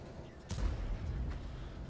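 A Grille tank destroyer fires a single shot in World of Tanks, a sudden distant boom that rolls out into a low rumble, heard alone and fairly faint.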